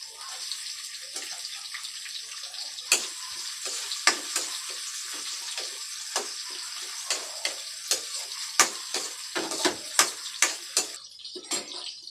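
Garlic, ginger and onion sautéing in a pan, a loud continuous frying hiss close by, punctuated by repeated sharp spatula clacks and stirring scrapes against the pan.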